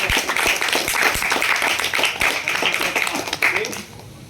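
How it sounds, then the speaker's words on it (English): An audience at a Toastmasters meeting applauds a speech evaluator, a lively round of clapping that holds steady for a few seconds and then fades out. "a huge thunderous round of applause for the SBI long lunch evaluator"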